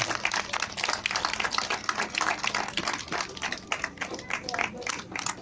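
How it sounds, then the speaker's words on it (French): At a Normandy folk festival, an audience claps for a folk band in quick, uneven bursts of many hands, with voices talking underneath in a lively outdoor-sounding crowd. "on peut les applaudir très fort"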